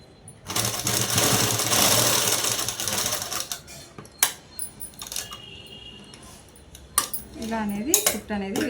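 A sewing machine stitches a collar neck dress in one long, close run of a few seconds, followed by light clinks and handling noises, with a brief voice near the end.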